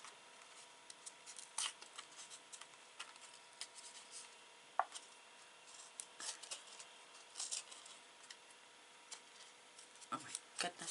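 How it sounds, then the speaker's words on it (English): Paper being torn by hand to trim it for a handmade watercolour card, heard as scattered faint rips and crinkles spread across the stretch, close by and quiet, with no talking. "So I'm just going to start tearing."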